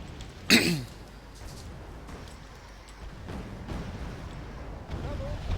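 Bombs dropped by a Tornado jet explode in the Wargame Red Dragon video game: one sharp, loud blast followed by low rumbling and softer distant thuds.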